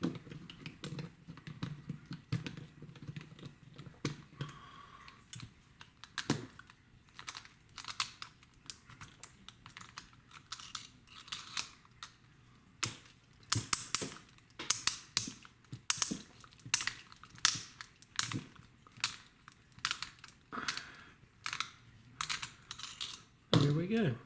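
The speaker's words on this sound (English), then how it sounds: "we'll start to unscrew the bottom of this core" A screwdriver works the bottom off a 1970s military Ingersoll Miracle lock core, making dense, close metallic clicks and ticks that come in irregular bursts, sparse at first and busier toward the end, with faint talk in places.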